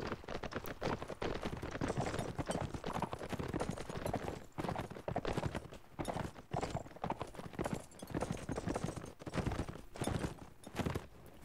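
Horse hooves pound steadily in a galloping rhythm in the Warband mod Warsword Conquest, moderately loud and continuous over battle noise with brief dips in intensity.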